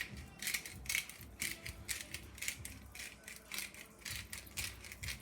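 Rapid ratcheting clicks from a hand pepper grinder seasoning cleaned, tail-off shrimp, a steady close rhythm of dry grinding bursts with no voices.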